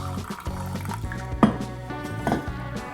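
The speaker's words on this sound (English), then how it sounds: "Let's pour it into my tasting glass" Dark cold brew coffee poured from a bottle into a tasting glass, a continuous liquid fill with gurgling and a rising pitch as the glass fills, plus a brief clink near the middle.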